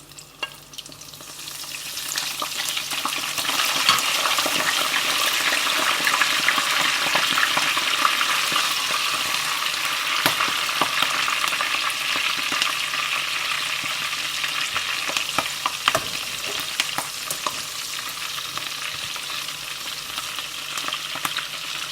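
Chicken frying in hot oil with green chillies and curry leaves gives a steady, dense sizzle that holds for the whole stretch, with a few sharper crackles and pops on top and no voices.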